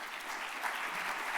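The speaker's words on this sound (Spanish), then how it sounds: "La recibimos con este aplauso." An audience at a Chile infrastructure and logistics panel applauds to welcome the moderator, a dense, steady wash of clapping filling the short clip without speech.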